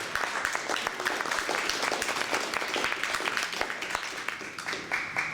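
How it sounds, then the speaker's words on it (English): Crowd at a Seattle data science meetup giving a sustained round of applause for IBM, dense steady clapping throughout with a faint murmur of voices underneath. "So we can give one big round of applause for IBM."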